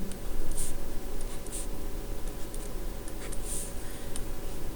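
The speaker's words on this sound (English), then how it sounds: "So let me draw the dimensions on here." Pen or marker scratching steadily across paper while dimensions are drawn onto a mechanics diagram of a shaft with aluminum and steel sections, a continuous close scratchy writing sound with a few sharper ticks.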